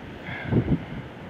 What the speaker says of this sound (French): le vent est pour l'instant modéré, peut-être assez fort.